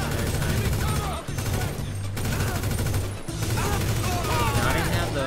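Continuous automatic gunfire with standard ammo at soldiers in GTA 5 during a bunker resupply mission, loud sustained bursts with brief gaps and someone talking over it.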